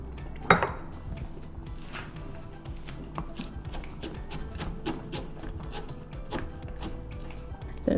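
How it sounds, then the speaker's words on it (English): A knife chops fresh basil into ribbons on a cutting board for lasagna, a series of quick, light taps at an irregular rhythm, close and moderately quiet, with a sharper clink near the start. "So I'm just going to chop this up into little ribbons."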